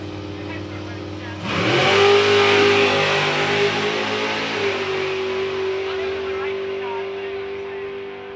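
A two-seater drag racing car blasts off the line, its engine jumping from a low idle to a loud, sustained roar that holds steady and then slowly fades as it runs away down the strip.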